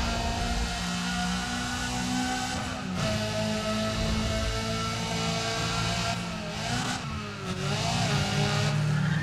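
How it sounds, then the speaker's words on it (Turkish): A race car in Need for Speed ProStreet roars at high revs, its engine note dipping and climbing with gear changes and a few brief tire-scrub moments, loud and continuous throughout. "çarpmamak için fren yaptım ya"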